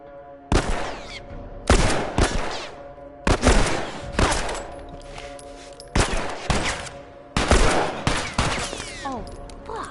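Video game gunfire in The Last of Us, during a fight against several enemies, comes as five or six sharp, loud shots and short bursts, spaced a second or two apart, each with a ringing tail.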